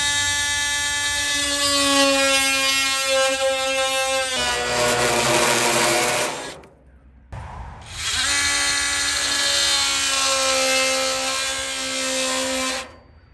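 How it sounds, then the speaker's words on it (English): An oscillating multi-tool cuts through glued PVC pipe with a loud, steady high-pitched buzz that runs for several seconds, stops briefly, then resumes at full strength until the cut ends. "I'm going to use a oscillating tool to cut this with."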